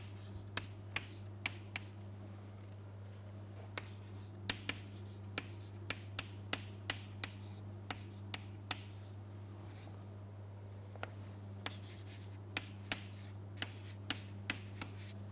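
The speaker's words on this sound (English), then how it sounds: "So let me write that value again." Pen or marker strokes writing out a numerical value during a lecture on electronic device fabrication, a series of sharp, irregular taps and scratches over a steady low electrical hum, with no talking.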